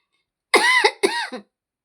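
Two harsh coughs in close succession from a man with a bad cough, near and loud, after a moment of silence.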